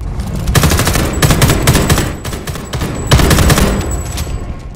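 Loud, sustained gunfire in the video game Homefront The Revolution, with sniper fire among it: dense, rapid bursts of shots rattling on without a break, with a faint high tone running through.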